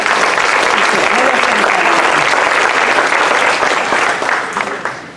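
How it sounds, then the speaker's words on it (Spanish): A church congregation applauds during a sermon, loud sustained clapping filling the room for about five seconds before tapering off at the end. "Den un aplauso al Señor."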